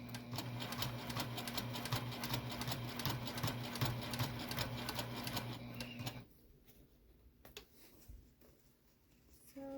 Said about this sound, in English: So we're going to continue to sew this all the way around.